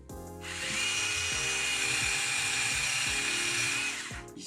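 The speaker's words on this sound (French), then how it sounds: "Et alors, on va visser tout simplement" A power drill drives a screw to fit a shock absorber on a Traxxas TRX4 Sport RC truck. It gives one close, continuous high-pitched whine lasting about three seconds, with no talk.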